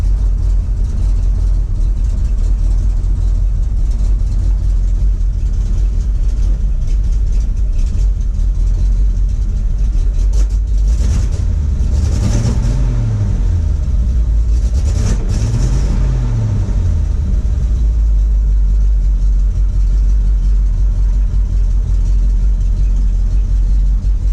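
A 1979 Ford F700 4x4 truck engine idles at a steady low rumble close by, loud and continuous, with two brief rises in pitch partway through.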